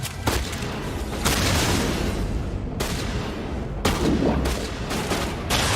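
Shotgun fire in the video game Mass Effect, heavy booming blasts that burst out repeatedly in a dense, loud barrage with rumbling tails between shots.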